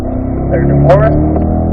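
A Chevrolet Corvette engine drones steadily at a driving school track as the driver shifts from third to fourth gear, with an instructor talking over the running engine throughout.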